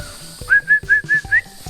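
A person whistles a quick run of five short, sharp, evenly spaced notes to call five-week-old Vizsla puppies on a hillside, loud and close with no talk.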